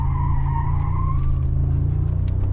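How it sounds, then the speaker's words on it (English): A 2025 Mercedes-AMG G63 on summer tires corners hard, its tires squeaking over a steady loud engine rumble, with a higher squeal tone fading after about a second and a half. "Okay, tires are squeaking"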